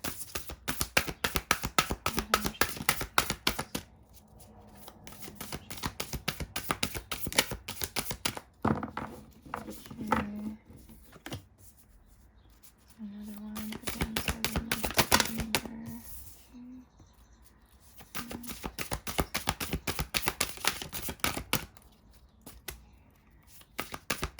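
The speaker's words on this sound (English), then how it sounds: "you can always skip when I'm shuffling" Repeated bursts of crisp tarot card shuffling, riffling in quick flurries separated by short pauses, close and fairly quiet.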